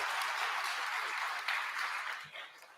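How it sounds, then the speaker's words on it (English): A debate audience applauds the candidates at the close, a broad, fairly steady wash of clapping that thins and fades toward the end, with a faint voice briefly underneath. "Please give them a round of applause."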